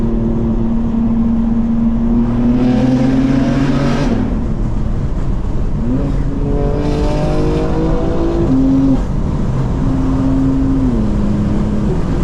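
A 2024 BMW M4 with its S58 engine drives through city streets, the exhaust loud and close, revving up through several gears with clear shifts and swelling, droning tones between brief lifts.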